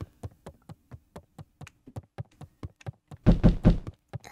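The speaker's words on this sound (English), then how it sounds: "Who's knocking on the door now?" Knocking on a door in the video game Beacon Pines: a long run of evenly spaced, crisp knocks, with a brief loud burst of noise near the end.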